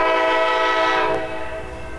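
A diesel freight train sounds its horn while passing a grade crossing, a loud, sustained multi-tone blast that holds steady for about two seconds and fades slightly at the end, heard close by with no talk.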